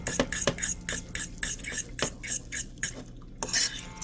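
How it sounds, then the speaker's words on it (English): Instant yakisoba noodles with tofu puffs stirred in a pan, a steady run of close scraping and clinking utensil strokes against the metal, rhythmic and fairly loud. "And now we stir."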